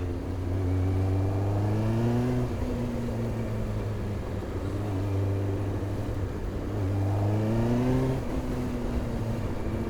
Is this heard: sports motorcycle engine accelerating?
yes